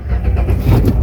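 A Renault Triber car engine starts up nearby, a steady low rumble carrying on loudly through the brief moment with no talk.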